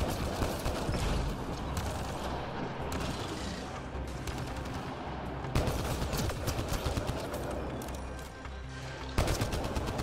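Machine gun fire in the video game Mass Effect Andromeda, dense continuous bursts of rapid automatic shots filling the whole stretch, loud and close with brief breaks between volleys.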